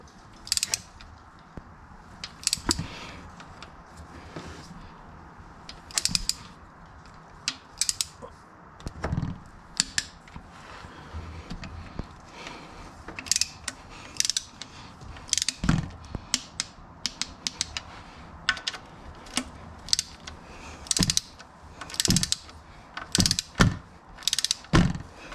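A ratchet tightens transmission pan bolts to 6 foot-pounds in a crisscross pattern, producing repeated bursts of quick metallic clicks separated by short pauses, close and fairly crisp.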